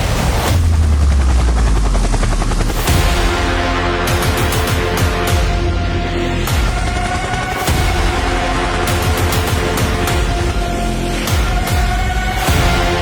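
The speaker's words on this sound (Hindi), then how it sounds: "पाकिस्तान आर्मी के पास मौजूद एक ऐसा जादुई हेलीकॉप्टर जो अभी तक मंजरे आम पर नहीं आया" A Chinese-made Z-10ME attack helicopter of the Pakistan Army roars loudly and continuously, its heavy rotor chop throbbing close by with no voices.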